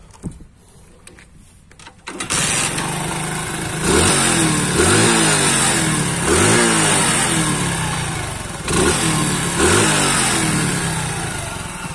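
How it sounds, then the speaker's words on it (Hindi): A motorcycle engine with a carburettor over-race problem cranks and catches, then runs loudly up close with repeated revs rising and falling over a steady idle. "यहाँ पर मैं आपको बाइक को स्टार्ट करके दिखा देता हूँ"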